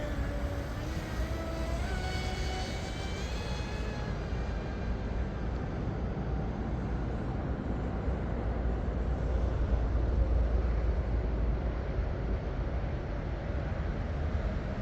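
An M700 Mono model racing boat's motor runs at high RPM during a speed trial. It gives a continuous, loud, rushing drone, with a whining pitch that climbs over the first few seconds and then holds steady.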